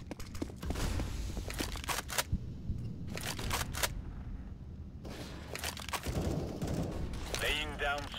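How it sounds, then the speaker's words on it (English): Flashbang grenade in Counter-Strike: Global Offensive, a series of sharp pops and bangs over gunfire, footsteps and game action, ending in a ringing, warbling tone. "Deploying flashbang."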